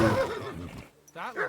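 A horse whinnies in the medieval role-playing game Kingdom Come: Deliverance II, a clear rising neigh near the end of the clip that follows a stretch of busy in-game sound.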